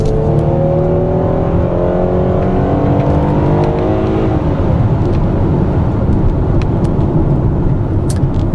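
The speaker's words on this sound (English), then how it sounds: "this engine isn't as smooth and quiet as what you get on Toyota and Honda vans, but it is very, very strong and quick." A 2015 Kia Sedona SXL minivan engine pulls hard under acceleration, its drone climbing steadily in pitch over several seconds, then settling into a loud, steady cabin roar.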